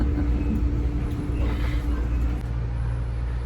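A local train in New York rumbles steadily around passengers seated inside it. There is a low, continuous rolling drone with soft clatter and a faint hum, and no clear talk.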